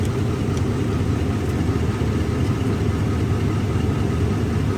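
A Ford Ranger engine, suffering a failing starter and oil leaks, runs at a steady idle, a loud, close, continuous low rumble with an even, unbroken drone throughout.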